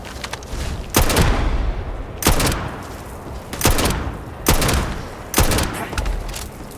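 Five heavy, booming gunshots from the Starfield video game ring out roughly every second and a half, each loud and sharp with a short decaying tail over a faint background.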